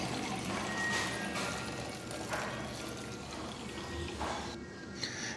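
Water pours steadily into a plastic bottle to fill it about three-quarters full, a continuous soft gurgling trickle heard close by with no talk over it.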